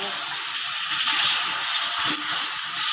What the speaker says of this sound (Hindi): और इसी में थोड़ी सा पानी ऐड करेंगे